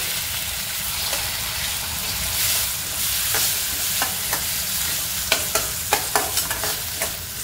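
Tomatoes tossed into fried onions in a pan for egg ghotala, with a steady loud sizzle and frying hiss throughout and a run of spatula scrapes and taps near the end; no talking.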